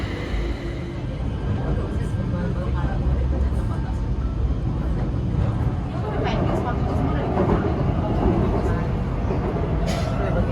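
Metro train pulling into a Bangkok station, a steady loud rumble and rolling noise filling the platform, with a person talking over it.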